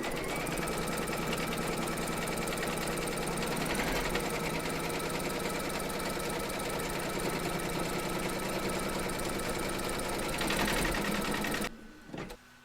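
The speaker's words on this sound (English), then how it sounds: "Pop your hoop into your machine and stitch round number 3 to secure it." An embroidery machine stitches a coaster border in purple thread, a loud fast mechanical rattle running steadily for most of the stretch before cutting off abruptly near the end.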